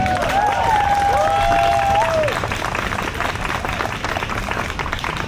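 A rally crowd breaks into sustained applause and scattered cheers, loud and close, with a few voices rising over the clapping at the start.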